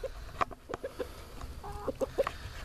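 A small rooster clucks in quick, close bursts of short throaty notes, a rapid clustered series over a faint background hum, with no voices.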